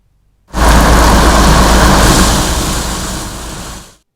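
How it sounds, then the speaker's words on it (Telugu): Heavy night downpour with thunder over Hyderabad, a loud, dense wash of rain with deep rumbling that starts abruptly, holds steady, then fades slightly before cutting off; no voices. "ఉరుములు మెరుపుల వర్షానికి తోడు పిడుగులు కూడా పడ్డాయి."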